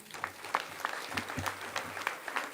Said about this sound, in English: Let's give this gentleman a hearty applause.